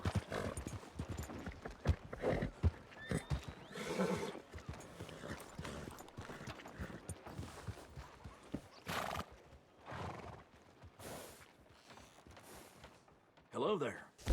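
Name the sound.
horse neighing at the stable in video game Red Dead Redemption II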